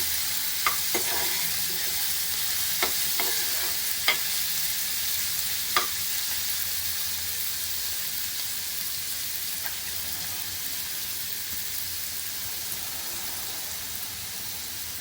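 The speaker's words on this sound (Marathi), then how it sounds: "कांदा शिजवायचा आहे थोडा" Chopped onion frying steadily in oil in a pan for paneer bhurji, a constant hiss with occasional sharp crackles and stirring clinks, close and alone with no talk.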